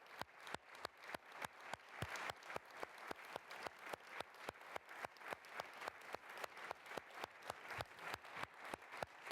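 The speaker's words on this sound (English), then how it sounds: "I think if we clap to the families here as a show" Sustained audience applause at a Munich Security Conference address in solidarity with hostage families, dense rhythmic clapping from a large crowd holding steady throughout, with no talking.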